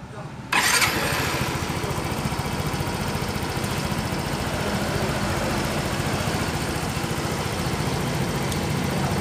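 A Yamaha Mio M3 scooter engine cranks and catches abruptly after a brief pause. It then runs at a loud, steady idle close by until the end, with a continuous buzzing putter.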